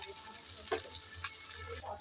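Ginger garlic paste frying with onions for a mutton kasha, a soft, steady sizzle with occasional stirring scrapes, fairly quiet and close.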